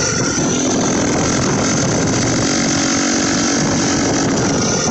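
An untuned turbocharger on a V3 turbo build spins up with a loud, sustained, high-pitched whine over a steady engine roar, close and continuous throughout.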